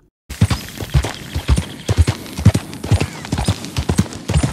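Horse hooves clip-clop steadily in Red Dead Redemption 2, with close, distinct footfalls in an even walking rhythm and nothing else heard.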